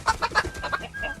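Backyard chickens, including Americanas, Rhode Island Reds and a Leghorn, clucking close by in a quick run of short rhythmic clucks with a brief higher squawk, no talking.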